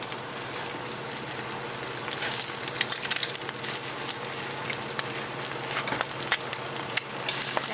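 Eggs sizzle in a hot pan with bacon vinaigrette hash nearby, a steady close crackling fry dotted with sharp spitting pops throughout.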